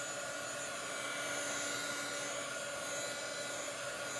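A hair dryer drying chalk paste on a craft transfer, a steady loud whirring blow held close by without pause.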